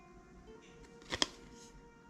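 A collectible card from a horror comic book set is handled close by, with a brief flick and shuffle of card stock and a sharp snap in the middle over quiet room noise.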